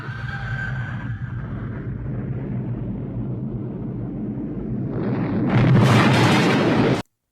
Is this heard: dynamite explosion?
yes